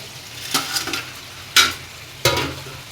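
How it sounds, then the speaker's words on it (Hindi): Pakoras fry and are stirred through a thick masala in a pan, giving a soft sizzle broken by three sharp scraping stirs of a spoon against the metal, up close with no talking. "इसको मसाले में अच्छे से हम लोग भूजेंगे"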